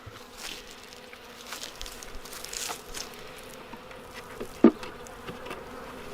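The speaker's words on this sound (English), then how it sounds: "These bees right here are alive." Honey bees buzz as a soft, continuous drone from a starving hive in winter, with one brief louder buzz passing close near the end.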